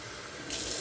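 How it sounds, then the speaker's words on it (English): Tap water running into a mug, a soft steady trickle that swells suddenly into a brighter, louder hiss as the flow increases, heard alone. "I'm gonna fill up my mug here with some more water."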